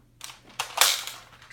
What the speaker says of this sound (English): For the rest of this firing test, I will be using the new X-Shot darts.